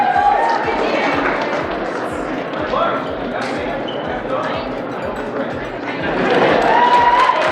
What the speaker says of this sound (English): The audio is a little rough because there's a crowd behind me yelling.